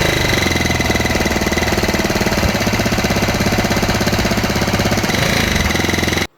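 A SYM Super G125 scooter engine with an unusual mechanical noise runs hard and close, making a loud, continuous, rattling drone that holds steady for about six seconds before cutting off abruptly.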